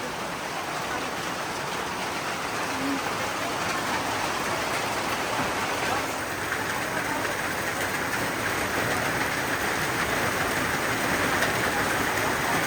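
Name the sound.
rain falling during outdoor filming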